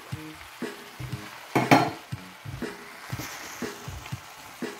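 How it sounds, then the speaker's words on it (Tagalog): Fresh pancit noodles being stirred in a hot pan, with a steady sizzle and a run of scraping, clinking stirring strokes, one louder burst near the middle, heard up close. "Haluin lamang natin hanggang sa maluto siya guys."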